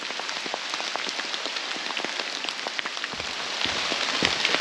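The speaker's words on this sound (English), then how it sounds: "As you can see, the rain has intensified, so we've put our ponchos on as well." Steady rain pattering on a bush hiking trail on the Bibbulmun Track near Donnelly River Village, a dense continuous hiss of drops that grows slightly heavier toward the end, with no voices.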